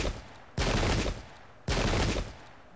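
Two loud, crackling musket volleys from the Pike and Shot video game, each lasting about half a second, roughly a second apart, with a quieter battlefield hum between them.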